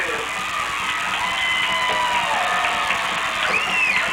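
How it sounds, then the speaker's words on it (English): A home crowd of Bellaire Big Reds fans roars steadily at a 1996 high school football game against Cambridge after a holding penalty on the Bobcats, a dense, sustained wash of cheering that swells slightly near the end. "Brings up a roar from the Big Reds crowd"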